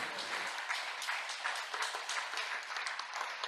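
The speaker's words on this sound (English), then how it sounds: "Yeah, hand of applause." An audience at a union co-op solidarity circle applauds its speakers, with dense, steady clapping from many hands that carries on without a break, at moderate level and somewhat distant.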